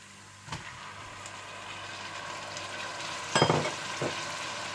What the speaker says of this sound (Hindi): अदरक लहसुन थोड़ा सा भूनने के बाद आप इसमें डाल दें टमाटर